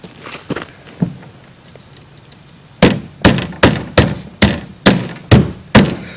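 A hammer drives 1.5-inch roofing nails into an old, soft, particle-board-like blackboard: a few scattered knocks, then a steady run of eight loud, evenly spaced blows, close by, with no talking.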